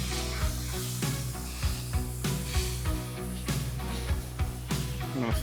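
A smash burger patty sizzles steadily on a Weber 22-inch kettle griddle, with a rhythmic series of scraping, pressing knocks from a spatula over constant frying hiss and a low hum.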